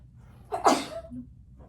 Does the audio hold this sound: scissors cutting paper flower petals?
no